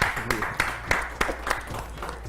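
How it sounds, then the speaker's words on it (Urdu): A studio audience claps to welcome a guest onto a talk show, producing a steady, moderately loud patter of hands with a few sharper claps standing out. "بھرپور تالیوں میں"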